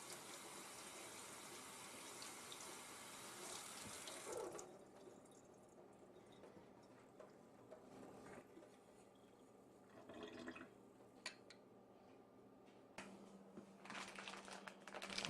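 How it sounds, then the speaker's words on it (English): Hot tap water runs faintly into a strainer as pizza toppings are rinsed, with steady trickling and splashing that shifts in intensity, then picks up again near the end. "Wash them off in hot water in a strainer to prep them."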